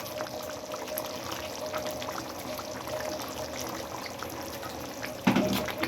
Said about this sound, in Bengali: এখন আমি চিংড়ি মাছগুলি দিয়ে দেবো।